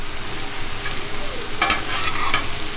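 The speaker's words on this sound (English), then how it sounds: "We've got about 8 tablespoons of olive oil going, and we're gonna go ahead and put our onions and garlic in" Onions and garlic sautéing in about eight tablespoons of olive oil, a steady close sizzle with a few brief clinks and stirring sounds near the end.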